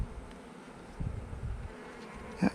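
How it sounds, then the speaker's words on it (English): Honey bees humming softly at a newly opened hive during a first spring inspection, a quiet, steady drone with a few short louder buzzes near the end. "Nice quiet bees."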